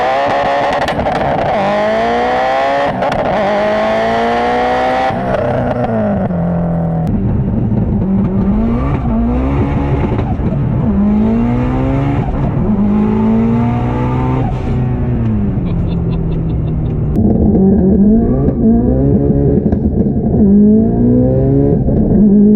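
An 850HP 2JZ-swapped Subaru STI on drag radials running 42psi of boost accelerates hard and near, its engine climbing through repeated rising gear pulls with loud, continuous roar and brief shifts between them.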